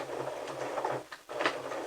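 A sewing machine stitches a clutch purse seam in a steady mechanical whir with a short pause midway, close and moderately loud, no talking.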